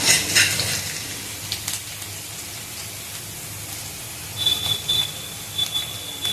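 Crushed garlic cloves fry in oil in a home kitchen pan, a soft, steady sizzle with brief crackling bursts near the start and middle and a thin high hiss late on; no voices.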